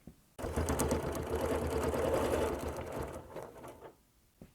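A sewing machine runs along a quilting ruler in one continuous burst of rapid, even stitching for about three seconds, then winds down and goes quiet, recorded close and fairly soft with no voices.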